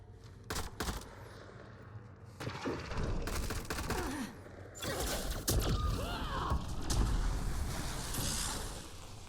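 Sniper and other gunfire in the shooter game Mass Effect Andromeda, with sharp shots and bursts cracking out in clusters over a busy background of game noise, fairly loud and unbroken across the scene.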